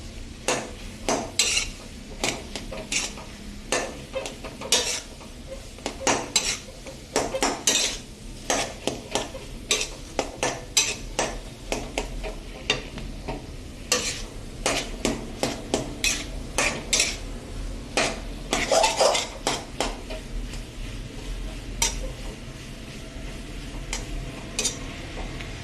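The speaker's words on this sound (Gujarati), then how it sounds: "આ રીતનો રવો ધીમા તાપે સરસ શેકી લેવાનો" Semolina roasts slowly over low heat in a pan for sweet rava and makhana modak, a spoon scraping and clinking against the pan in steady repeated strokes, close and fairly loud, with a faint dry sizzle beneath.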